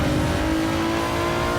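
An Alfa Romeo 155 race car in Gran Turismo 7 holds a steady, droning engine note with a strong harmonic hum during an online race, loud and close, with no voices.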